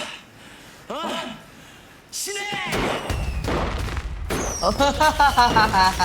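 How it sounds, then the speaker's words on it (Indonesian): Firecrackers burst in sharp cracking bangs in quick irregular succession, mixed with voices talking over the noise. "Petasan tadi."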